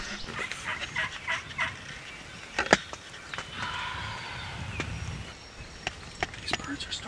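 Wild turkeys gobble in several faint, short bursts out in an open field, heard at a distance against quiet ambient outdoor noise.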